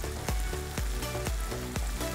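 Papaya flowers stir-fried in a wok in the Manado style, sizzling loudly and steadily, with rhythmic stirring strokes about twice a second, close up and with no talking.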